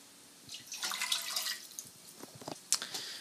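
Water poured into a pot while making bacon clam chowder, a close splashing pour that swells, trickles and ends in a few drips, with no talk over it.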